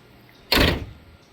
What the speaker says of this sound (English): So the doors close nice.